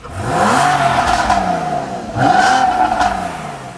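A 2014 Porsche Cayman S engine revs hard twice in quick succession, each throaty roar rising in pitch and then falling back, loud and close.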